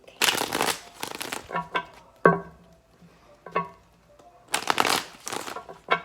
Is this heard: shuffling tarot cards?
yes